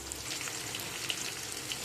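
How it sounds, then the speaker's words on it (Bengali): Soybean chunks frying in hot oil in a pan make a steady hissing sizzle with tiny pops throughout, close and fairly soft, with no talking. "একইভাবে এই সয়াবিনগুলোকে আমি ভেজে নেব।"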